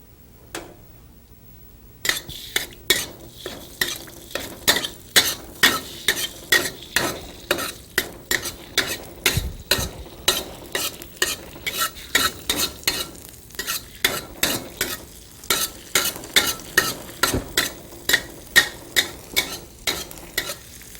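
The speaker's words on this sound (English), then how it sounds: "when the ghee becomes hot, stir in your fresh ginger root" Fresh ginger root stirred into hot ghee in a pan for an Indian entree, a rapid regular series of loud spoon scrapes and knocks over a faint sizzle, close and without talk.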